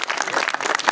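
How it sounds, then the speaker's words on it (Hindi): Audience applause at a magic show, a brief burst of dense, steady clapping from a crowd. "तालियों की आवाज"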